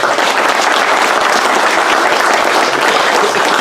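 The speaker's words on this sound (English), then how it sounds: "Everybody give them a round of applause." An audience at a seminar gives a round of applause, a loud, dense burst of clapping from many hands that holds steady throughout.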